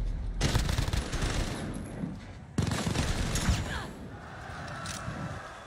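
Rapid automatic gunfire in the shooter game Truy Kích, two dense bursts of loud shots, the second tapering into quieter mechanical clicks and rattles.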